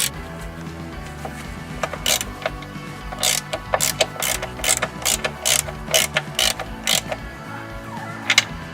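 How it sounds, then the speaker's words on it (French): A ratchet with a 21 mm socket loosens the suspension arm bolts on a Peugeot 206 in loud, close bursts of rapid metallic clicking, repeated in several quick strokes. "Desserrez les deux vis du triangle à l'aide du cliquet et de sa douille de 21."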